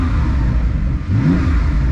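TECHART-tuned Porsche 911 (992) Turbo S, a 710 hp twin-turbo flat-six, idling and revving at a standstill, a steady loud low engine drone with a brief rise in pitch midway, close up and without talk.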